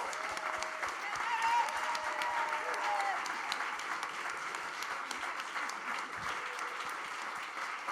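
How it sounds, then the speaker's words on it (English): A live-show audience at Joe's Pub gives a sustained, dense round of applause for the stage director, loud and even across the whole stretch. Some faint voices sit beneath the clapping. "Huge round of applause."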